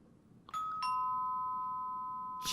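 A doorbell in the video game Captain Spirit gives two quick electronic chimes, clear and sustained, that ring out together before a faint third strike at the very end.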